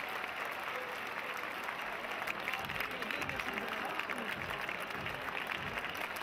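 Bullring spectators applaud a novice bullfighter from Calasparra on his lap of honour, a sustained dense roar of clapping from a large crowd, steady throughout.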